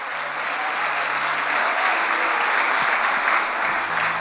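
A church congregation at a consecration service breaks into applause, a dense, loud and continuous roar of many hands clapping that holds steady throughout with no voices over it.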